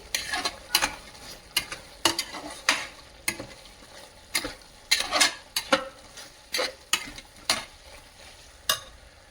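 Garam masala and coriander powder are stirred into a pot of mutton biryani, with a series of sharp scraping and clinking spoon strokes against the pan over a low sizzle, no talking.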